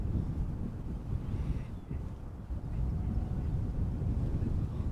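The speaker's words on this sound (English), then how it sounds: "Currently the wind is blowing from the northeast." Steady northeast wind rushing outdoors at Amsterdam Schiphol Airport, a continuous low buffeting roar across the microphone with slight gusty swells and no pauses.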